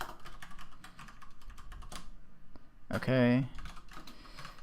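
Computer keyboard typing with quick, light key clatter running through most of the stretch, pausing briefly, under a single short spoken word near the end.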